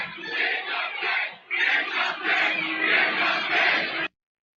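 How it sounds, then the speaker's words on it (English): A large crowd at a Libertarian convention chants "We want Trump" in rhythmic bursts, the shouting swelling and briefly dipping before resuming, then cutting off abruptly. "it sounds like they're cheering for Trump here at this point"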